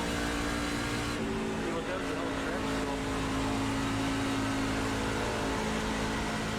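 A NASCAR truck engine in a racing video game drones loudly and continuously, with a steady engine tone shifting slightly in pitch; a voice talks over it.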